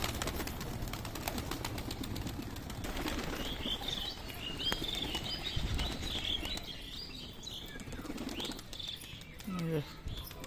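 A young pigeon beats its wings as it drops down to land at a rain-soaked pigeon loft, a brisk close flutter of several seconds with soft chirps and coos from other birds around it.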